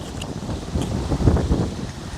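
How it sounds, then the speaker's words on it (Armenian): Wind blowing over a garden plot, gusting and buffeting against the microphone in short rumbling surges for a couple of seconds, with no one speaking. "Հիմա էլ քամին բռնեց։"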